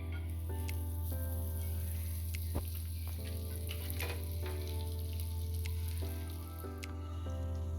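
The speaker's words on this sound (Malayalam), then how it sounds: "നമ്മൾ 4 ബണ്ണ് പാനിനകത്തിട്ടു ബട്ടർ ഇട്ട് ടോസ്റ്റ് ചെയ്തെടുക്കുകയാണ്." Butter sizzling steadily in a pan as four buns toast, a continuous close crackle and hiss with a low hum beneath and occasional faint clinks.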